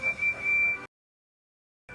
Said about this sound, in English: Percy tooted his best friend's whistle.